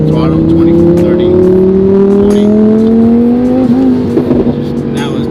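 Turbocharged Audi R8 accelerating as throttle gradually increases, a loud engine drone rising steadily in pitch, with people talking over it inside the car.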